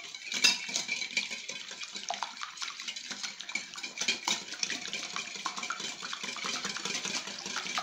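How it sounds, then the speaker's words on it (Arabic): Basbousa cake ingredients with vanilla being mixed together in a bowl, giving a steady run of clinking, scraping and sloshing sounds throughout with no talking. "غادي نخلط هاد المكونات مع بعضها"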